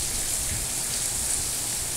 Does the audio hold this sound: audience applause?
no